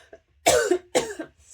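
Two close, distinct coughs from a woman indoors, brief and fairly quiet, following a tiny faint throat sound.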